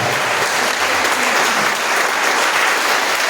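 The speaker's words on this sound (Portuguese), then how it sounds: "Agora eu te convido a dar uma forte salva de palmas ao Senhor Jesus." A church congregation gives Jesus a strong round of applause, dense sustained clapping that fills the room at close, steady loudness throughout.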